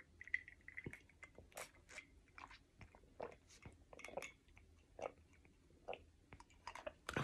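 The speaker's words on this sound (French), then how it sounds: "je vais me prendre une petite gorgée de citronnade" Small sips of lemonade taken close to the mic: quiet, scattered wet mouth clicks and soft swallowing sounds spread over several seconds, with no talking.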